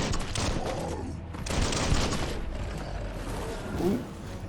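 Gunfire from the video game Biomutant: bursts of rapid shots that swell, pause briefly, then resume in dense volleys, with a short voice near the end.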